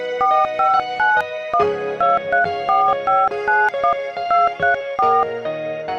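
Telephone keypad dialing a number, a rapid run of close, clear electronic tones, each a short beep in quick rhythmic succession, with a brief pause midway.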